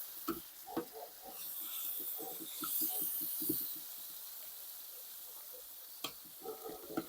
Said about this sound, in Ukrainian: Починаємо смажити нашу картоплю.